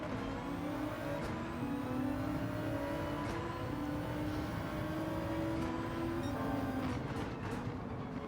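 An Audi RS 5 Turbo DTM race car in Gran Turismo 7 at full throttle on the Sardegna circuit: a loud, continuous engine drone climbs repeatedly in pitch through successive gear changes, with sharp clicks and whooshes at the shifts.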